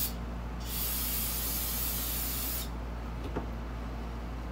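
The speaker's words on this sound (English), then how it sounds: "you just want to spray it with a little bit of carb cleaner or soak it in some gas" Carb cleaner hisses from an aerosol can in one steady burst of about two seconds while a dirt bike wheel axle and spacer are cleaned, followed by a faint clink.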